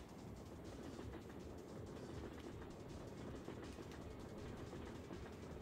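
Train rumble in the video game Syphon Filter, a steady broadband rolling clatter that holds at even loudness throughout, with no talk over it.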